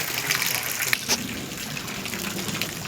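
Heavy summer rain falls in a dense, steady downpour, a constant wash of water noise that stays loud and even throughout.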